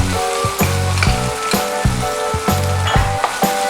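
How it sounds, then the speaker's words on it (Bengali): Garlic cloves and chopped onion dropped into hot oil, a loud, dense sizzle with regular rhythmic scraping strokes roughly twice a second, close and steady throughout. "তার ভিতর আমি এই গোটা কয়েকটা রসুনের কোয়া দিয়ে দেবো, আর দিয়ে দেবো পেঁয়াজ কুচি"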